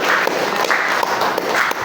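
A classroom of students clapping together on a teacher's prompt, a dense, steady wash of hand claps at fairly close range lasting under two seconds.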